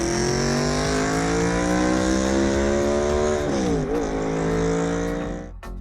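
A small Honda car with a 1.2 litre engine drives and revs hard. A loud, continuous engine note climbs steadily, dips briefly during a gear change, then rises again before cutting off.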